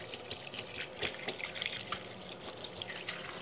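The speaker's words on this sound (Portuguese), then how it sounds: "Agora, novamente, passar água corrente" Running tap water rinsing bitter melon (melão são caetano) herbs in a sink, a steady splashing stream with irregular spatters and drips, close and fairly quiet, with no talking.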